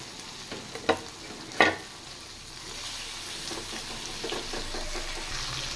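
Small chicken pieces hit a hot pan with chopped ginger, two sharp clattering drops followed by a rising steady sizzle and light stirring scrapes, close and alone.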